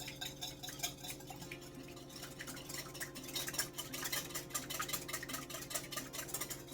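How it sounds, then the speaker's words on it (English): Two eggs beaten in a bowl, a fork or whisk clicking quickly and steadily against the side in a brisk rhythmic patter, close and clear with a low background hum. "I am going to beat 2 eggs"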